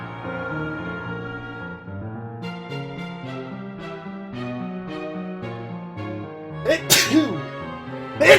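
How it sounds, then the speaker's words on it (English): A single sharp sneeze bursts out over a melodic video game soundtrack, followed by a second louder burst at the very end. "Game made me sneeze."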